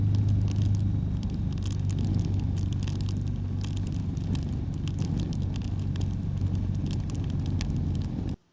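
A Suzuki motorcycle riding off on a road trip in Portugal, its engine a steady loud low rumble mixed with heavy wind buffeting on the microphone, running continuously before cutting off abruptly at the very end.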